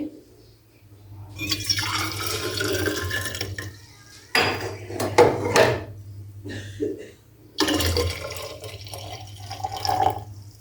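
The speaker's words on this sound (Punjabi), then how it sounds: "ਗਰਮ ਪਾਣੀ ਆਪਾਂ ਇਹਦੇ ਚ ਪਾ ਦਿੱਤਾ ਹੈ" Hot water is poured into a thermos bottle in a kitchen, with a running liquid fill in bursts and short clinks of metal and dishes between pours, fairly close.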